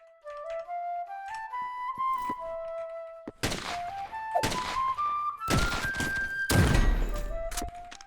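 Rapid bursts of gunfire from a Poxel.io 1v1 match ring out in several volleys, sharp thunks and pops layered with whistling tones and game music, with no talk.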